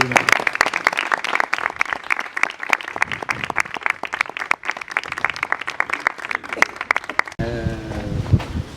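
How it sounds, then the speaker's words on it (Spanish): Audience applause for a guest speaker named Michel at an indoor talk, dense steady clapping for about seven seconds before breaking off sharply into a voice speaking. "os pido un gran aplauso para Michel"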